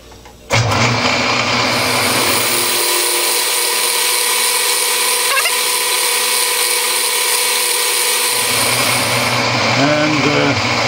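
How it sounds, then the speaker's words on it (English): A metal lathe faces off a scrap steel piece for a fire piston, a steady loud machine drone running throughout with a shrill cutting whine layered on top and no pause. "I will just face this off and finish it."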